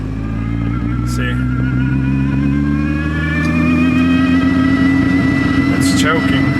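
Supercharged R53 Mini Cooper engine revving from around 2,000 RPM under steady throttle, a loud, close, bogging drone that chokes and stumbles rather than climbing cleanly, with brief voices over it.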